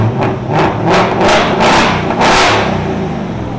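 A 2024 Ford Mustang GT with a 5.0L V8, Corsa Double Helix exhaust, muffler delete and factory resonator revs hard in a run of five or six loud, close throttle blips over a rumbling idle.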